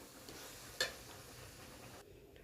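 A spoon stirs a spinach stir-fry of mixed greens in a pan, with a soft scraping hiss and a single sharp metallic clink against the pan, faint and steady with no voices.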